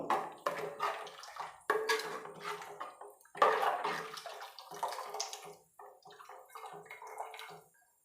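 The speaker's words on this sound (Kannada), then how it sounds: "ನಾನು ತರಕಾರಿ ಬೇಸಿರೋ ಅಂಥ ನೀರನ್ನೇ ಸೇರಿಸ್ಕೊತೀನಿ" Vegetable cooking water is poured into a pot of Karnataka-style vegetable bassaru, giving bursts of splashing, gurgling liquid in several pours with short pauses between them, close and moderately loud.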